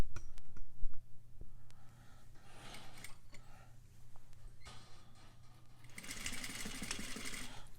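A sewing machine back stitches a quarter-inch seam at the start of a curved flap, a close, rapid mechanical chatter in short bursts that speeds into a loud continuous run near the end.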